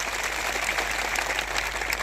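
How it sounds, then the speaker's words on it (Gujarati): A crowd at a protest rally against the loss of the Aravalli hills claps in a dense, sustained burst of applause, many hands together and fairly close, with no speech over it. "મીડિયા મિત્રો માટે એકવાર જોરદાર તાળીઓ પાડી લો."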